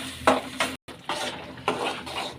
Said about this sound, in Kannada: ಈರುಳ್ಳಿ ಫ್ರೈ ಆಗಲಿ ಎಣ್ಣೆಯಲ್ಲಿ ಚೆನ್ನಾಗಿ. ಈಗ ಮಸಾಲ ಸೇರಿಸ್ಕೊಳ್ಳೋಣ.